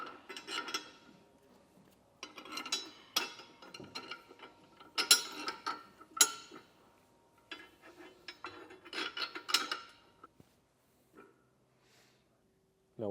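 Metal bolts sliding and clinking through the support bracket of a Hollywood Racks RV Rider 2 electric bike rack during assembly, with scattered metallic rattles, scrapes and taps in irregular bursts, close by, no talk.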